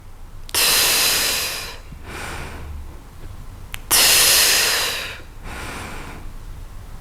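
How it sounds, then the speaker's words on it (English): Two deep breath cycles during a lower-back mobility and pelvic floor stability workout, each a loud, close, forceful rush of air that starts abruptly and tapers off, followed by a softer breath, with no talk. "Breathe in, exhale, and again."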